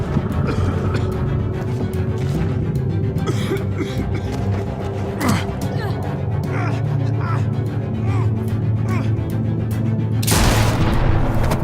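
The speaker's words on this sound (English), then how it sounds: "I hear gunfire." Gunfire and booms sound in the video game The Walking Dead: A New Frontier, a dense chaotic barrage with scattered shots, a loud blast near the end, and voices talking over it.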